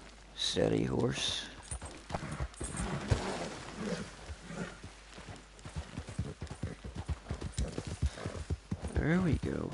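Horse hooves clip-clopping in Red Dead Redemption 2, a rider urging the horse down toward a lake; a steady run of hoofbeats, close and fairly loud, under ongoing talk and game sounds.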